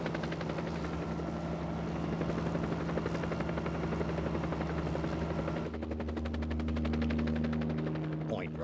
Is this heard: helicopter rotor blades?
yes